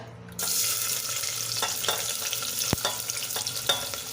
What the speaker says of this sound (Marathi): कांदा थोडा परतून घेऊया